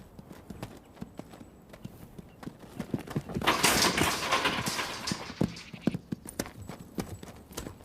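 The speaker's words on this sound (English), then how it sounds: "This 2-year-old quarter horse stud, born on the open range, has never been handled." A two-year-old quarter horse's hooves clip-clop in an irregular rhythm on hard ground on a Northern California ranch, with a burst of louder rushing noise in the middle as the horse moves quickly.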